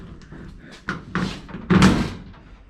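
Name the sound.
Factory Five 35 hot rod truck door being pushed closed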